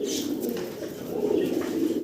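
Two pairs of magpie pigeons coo steadily and close by, a low throaty rolling coo that runs without a break for about two seconds, with a few faint higher bird sounds over it.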